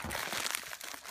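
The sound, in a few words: package being opened, wrapping crinkling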